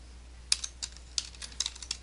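Short bursts of typing on a computer keyboard, a handful of light, sharp keystrokes spaced irregularly over a quiet background with no talk.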